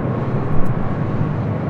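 An airplane at Los Angeles International Airport gives off a steady, loud low rumble that holds nearly even throughout, with no voices.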